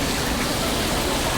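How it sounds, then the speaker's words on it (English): Steady rain falls in a busy Arashiyama, Kyoto, making a dense, even hiss that runs unbroken through the clip with no voices. "Alright, it is raining now."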